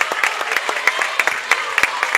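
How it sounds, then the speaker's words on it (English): A gym crowd claps loudly and steadily at the end of a basketball game, with sharp, dense claps running throughout and no voices rising above them. "Both sides stand up and clap, as do I."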